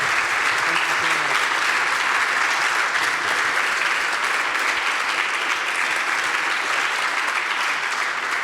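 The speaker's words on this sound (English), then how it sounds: "you can clap if you want" Audience applause fills a talk event at Hamburger Bahnhof, dense steady clapping from a crowd sustained for several seconds, close and even in loudness, with no speech over it.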